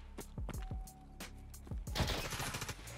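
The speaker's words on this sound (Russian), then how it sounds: "Вот он стреляет, походу." Enemy gunfire in Escape from Tarkov, as a handful of separate sharp reports with echoing tails, some single shots and a quick cluster near the end, moderately distant and fairly faint.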